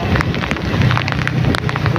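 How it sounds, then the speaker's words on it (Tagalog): Heavy rain between San Juan and Pasig, a loud, dense hiss of drops pounding a surface up close, steady over two seconds with scattered sharper patters and no talking. "Ang lakas ng ulan guys."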